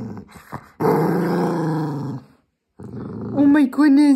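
A small Cavapoo puppy growls low and steadily in two stretches, broken by a brief pause, ending with higher whiny growl-yips.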